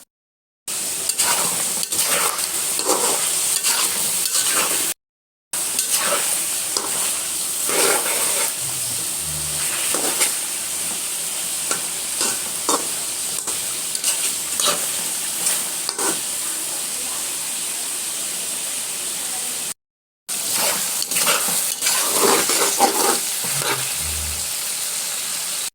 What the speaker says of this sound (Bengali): মাংসটাকে আমি ভেজেছি প্রায় 10 মিনিট।